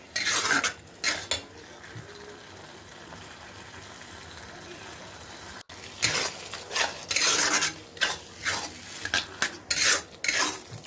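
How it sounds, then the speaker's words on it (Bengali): Paneer bharta with cream being stirred in a pan, a spoon scraping in bursts of rough, close strokes with brief pauses between them. "ক্রিমটা দিয়ে নাড়াচাড়া দেখো কি সুন্দর রঙ এসেছে"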